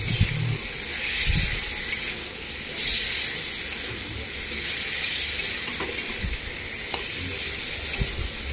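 Spice paste frying in hot oil for a Bengali potato, pointed gourd and egg curry, giving a steady close sizzle and hiss with occasional stirring scrapes throughout.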